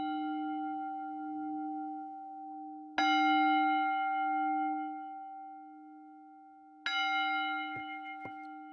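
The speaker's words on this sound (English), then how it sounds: "So I'm going to invite the bell." A mindfulness bell rings twice during a quiet meditation session, each strike a bright clear onset followed by a long, slowly fading hum that fills the silence between.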